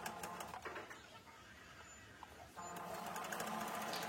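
A sewing machine stitches a fabric face mask with a steady mechanical whir, briefly slowing before it runs on continuously, close and alone.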